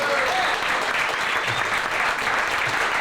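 An audience at a lecture claps in a dense, steady round of applause that holds at an even level from start to finish, with no voices over it.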